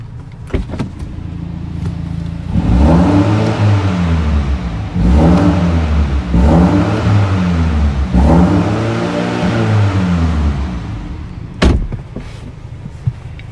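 A 2020 BMW M235i xDrive engine starts and settles into a steady idle, then is blipped in four repeated loud revs that rise and fall in even succession before dropping back, heard close without talk.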